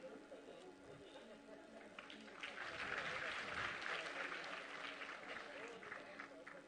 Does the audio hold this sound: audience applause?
yes